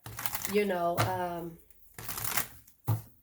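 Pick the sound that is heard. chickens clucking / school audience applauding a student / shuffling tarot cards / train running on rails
shuffling tarot cards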